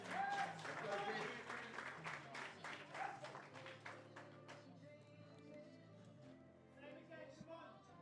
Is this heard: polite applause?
yes